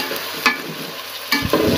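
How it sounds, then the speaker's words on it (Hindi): Meat sizzles in a hot pan while being stirred for a Pakistani savory vermicelli dish, a steady close frying hiss broken by a couple of scraping stirs of the spoon. "अब इसको मैं 5 मिनट तक इसको पकाऊँगी अच्छे तरीके से ताकि हमारा गोश्त अच्छे तरीके से फ्राई हो जाए।"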